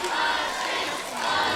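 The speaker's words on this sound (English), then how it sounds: "This crowd firmly chanting for the Machine" A dense wrestling crowd at a CCW Stampede event roars and chants steadily for Bryce Maddox, a continuous loud wash of many voices filling the arena.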